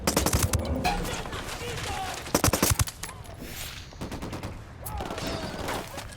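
Rapid bursts of gunfire from the Ghost Recon Wildlands video game, loud sharp volleys early and again mid-way, with scattered shots and background game noise between, under occasional voices.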